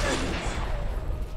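A dense, rumbling explosion blast in the video game Bulletstorm, loud and sustained for about a second and a half, with gunfire-like crackle and no talk over it.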